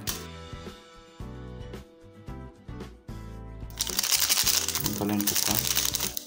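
Crinkling plastic coffee sachet being handled and torn open, close up, with a burst of sharper rustling near the end; a voice talks over the first half.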